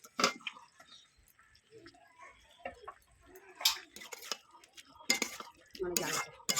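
Boiled potato pieces are stirred and sautéed in a pan, with a spatula scraping and clinking against the metal in irregular bursts, close and moderately loud, plus faint sizzling between strokes.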